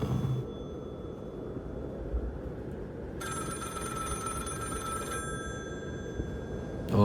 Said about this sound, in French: Je sais même pas il est où le téléphone.